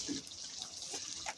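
Water poured into a cooking pot of chicken curry with tomatoes, a brief splashing, trickling stream heard up close with no talk.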